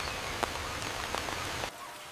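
Steady rain patters on a surface in the Amazon forest, a dense hiss with scattered drop hits, then the sound drops off sharply near the end.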